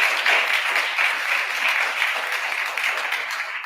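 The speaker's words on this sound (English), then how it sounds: "So let's give all of them a round of applause." A crowd at the 2022 Kid Governor inauguration ceremony gives a sustained round of applause, an even wash of many hands clapping that carries on steadily without voices.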